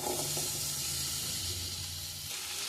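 Potatoes frying in hot oil in a pan for a spicy potato fry make a continuous hiss and sizzle up close. Faint low stirring or scraping moves beneath it, with no voice.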